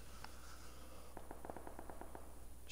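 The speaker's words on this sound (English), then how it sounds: "somebody just shot and he ran away" Gunshots in the video game PUBG: a rapid string of about ten faint, crisp cracks in an even burst, distant-sounding over a steady hum, with one isolated shot earlier.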